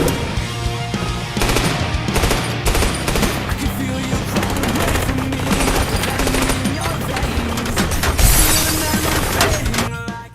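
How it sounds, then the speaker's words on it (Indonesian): Dense automatic gunfire from a John Wick action scene, rapid bursts of shots piling on one another with no pause, loud and close, mixed with film sound effects and a voice speaking. "Tembakan pun terus terjadi."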